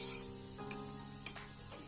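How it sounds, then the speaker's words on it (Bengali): Milk curdling into chhana with lemon juice is stirred in a pot, a soft continuous hiss with two brief sharp utensil taps against the vessel. "লেবুর রসটা দিয়ে আমি এরকম নাড়তে থাকবো"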